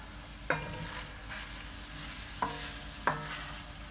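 Bean paste frying in oil in a pan makes a steady sizzle, with three distinct scraping clanks as a spatula stirs it, close and alone without talk.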